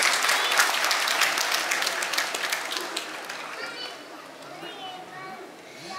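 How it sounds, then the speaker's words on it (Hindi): Dense applause from an awards ceremony audience, loud at first and gradually thinning, with children's voices and chatter mixed into the crowd clapping. "जोरदार तालियां हो जाए."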